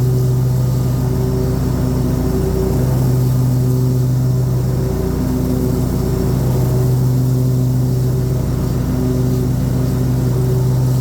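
A Toro 2000 HDX riding mower with a 52-inch deck and a mulch kit runs steadily up close, its engine holding a loud, even drone with a constant harmonic hum throughout.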